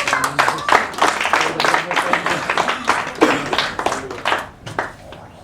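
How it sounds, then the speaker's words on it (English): An audience claps at the ASDF Global Awards ceremony in Bangkok. Dense, uneven hand claps run for several seconds and thin out toward the end, with voices talking over them. "Applause, please."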